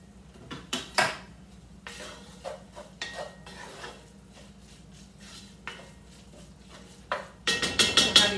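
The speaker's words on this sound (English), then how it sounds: "you're going to give that a nice little stir" Spoon stirring shrimp gumbo with garlic and sea salt in a pot, with close scraping and clinking of metal against the pot in irregular strokes and a faster run of knocks at the end.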